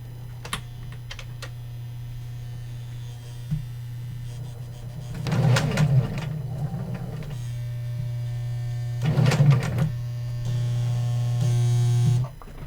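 A 1970s sewing machine whirs loudly in two bursts over a steady low mains hum, with faint clicks and taps between the runs.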